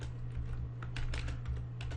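Rapid, steady clicking of a computer keyboard as code is typed into an Excel workbook, close and continuous, with irregular bursts of key presses over a low constant hum and no voices.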